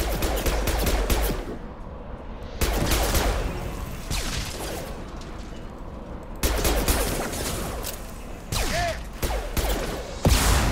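Shotgun blasts in the Mass Effect 2 video game ring out amid a dense, continuous firefight, with loud bursts at irregular intervals over a busy background of other gunfire.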